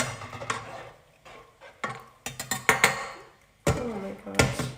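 A utensil clanks and scrapes against a pan of pasta and two onions during late-night home cooking, in irregular bursts of loud metallic knocks with short pauses between them.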